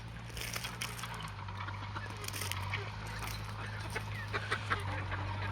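Free-range country chickens cluck and squawk while feeding in a village yard, a busy flock heard fairly close over a low steady hum, with a person talking nearby.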